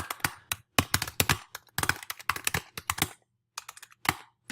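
Rapid clattering keystrokes on a computer keyboard as an email address is entered, close and crisp in uneven bursts with brief pauses, no talking.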